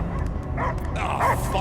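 A dog barks and yips in the Guardians of the Galaxy video game, with several close, excited bow-wow barks mixed with a whimpering yelp amid game ambience and no speech.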